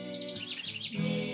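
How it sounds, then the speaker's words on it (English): Birds sing in a Guyana jungle, with several chirping calls rising and falling in quick repeated phrases, fairly clear and close over a steady background hum. "and we can hear the birds singing"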